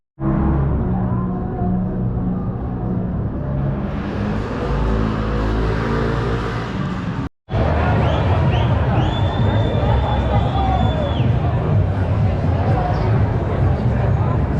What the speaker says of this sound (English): Anti-vaccination crowd.